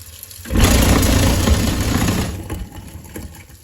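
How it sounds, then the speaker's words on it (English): A broken InSinkErator garbage disposal runs with a loud, rough grinding roar for about two seconds, then winds down and fades, heard alone without talk. "Has your disposal InSinkErator ever made sounds like this?"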